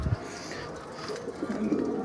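A dove cooing nearby, a few soft low coos rising over faint background noise.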